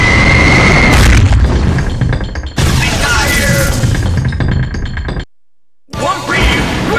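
A bomb explosion in the fighting game JoJo's Bizarre Adventure: All Star Battle, a loud booming blast with crashing, clinking debris and game effects, dense and continuous before a brief silence and a renewed burst.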